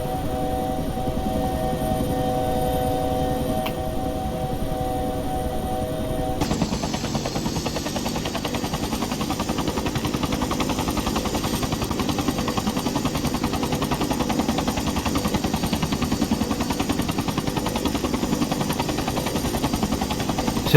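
A Bell 212 or 412 helicopter in the Prepar3D flight simulator drones with a steady, loud rotor and turbine roar throughout, with a shift in tone partway through and no voices.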